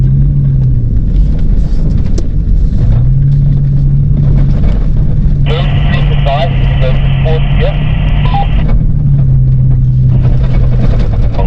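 An overlanding vehicle grinds up a soft sand section in high gear on the Namakwaland west coast, its engine a loud, steady rumble throughout, with a brief higher whine partway through.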